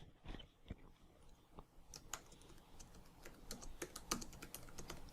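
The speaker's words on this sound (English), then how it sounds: "I'm just going to type text, just plain old text." Rapid, uneven clicks and taps of typing on a computer keyboard, heard close and quiet as a scattered run of keystrokes.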